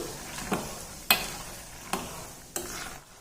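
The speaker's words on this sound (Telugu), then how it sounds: "1 కప్పు మైన ఉన్నాయండి పల్లీలు, అదే బుడపప్పు. ఇవి కొంచెం వేగాలి." Peanuts and split chickpeas fry gently in oil for pulihora, a quiet background sizzle broken by four sharp stirring scrapes, close but soft.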